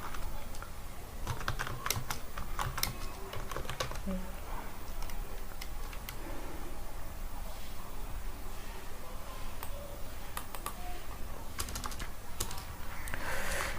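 Someone types on a computer keyboard while entering C++ code, with scattered key clicks and short bursts of rapid typing. A voice talks over part of it.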